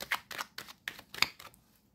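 Tarot cards being shuffled close by, a string of six or seven quick, soft papery riffles in irregular rhythm, faint and alone.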